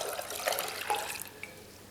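Water poured from a container into a pot for a pork chop brine, a steady splashing liquid stream that tapers off after about a second, fairly faint and with no talking.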